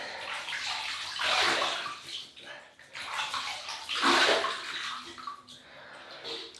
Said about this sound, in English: So we'll wet the face. And the whiskers.